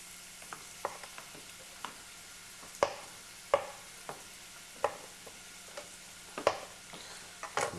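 Chopped onions fry on high heat, with a steady soft sizzle broken by intermittent spoon scrapes and taps against the pan, close and fairly quiet.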